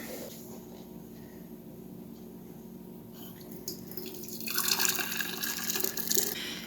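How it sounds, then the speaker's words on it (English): Hot elderberry syrup is strained from a pot into a quart jar, a soft liquid trickle that swells into a louder, steady pour in the second half, with no talking. "In the pot here now we have the very hot elderberry syrup, which I'm going to strain directly into this quart jar."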